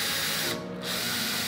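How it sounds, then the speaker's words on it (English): Power drill boring a new hole through the wooden body of a home-built electric guitar, a loud continuous whine that drops out briefly mid-way, then restarts and cuts off sharply. "did drill a new hole, that was the goal."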